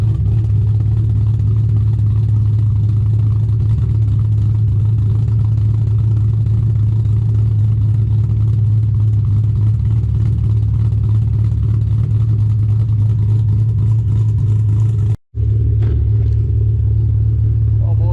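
A cammed Shelby GT500 with supercharger idles in a steady, loud, deep rumble with a slightly uneven lope, continuous for most of the run before a brief dropout and a quieter tail.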